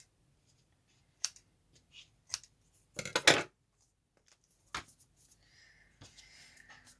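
Scissors snip paper for a journal cover in a quiet craft room, making a few faint, sparse cutting sounds with a louder cluster of snips midway and light handling noises.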